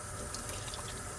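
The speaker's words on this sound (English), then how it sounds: "Wash my hands really well, rinse it off." Water runs from a tap as washed hands are rinsed, a soft, steady hiss with faint splashing over about a second, quiet and close with no voices.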